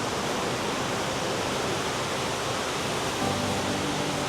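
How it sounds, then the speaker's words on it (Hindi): Monsoon waterfall in Odisha pouring steadily, a dense continuous roar of falling water that stays even and full throughout without pauses. "ये देखिए दोस्तों, कितना कितना सुंदर है ये वाटरफॉल,"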